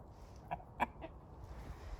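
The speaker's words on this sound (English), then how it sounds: "There's some chicken yard drama." In a chicken yard, a few brief, sharp clucks and squawks break out over quiet background noise, hinting at a small commotion among the hens.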